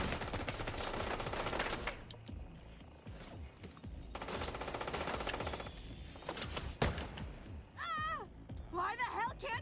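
SMG fire in The Division, coming as rapid bursts of clattering shots mixed with other combat effects and electronic whines. Players talk over the fairly quiet action throughout.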